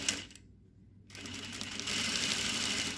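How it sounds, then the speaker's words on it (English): A sewing machine stitches a folded fabric edge through the seam allowance in short, close bursts of rapid mechanical clatter, broken by a brief pause near the start before the stitching runs on steadily. "I'm going to stitch this folded edge only through the seam allowance"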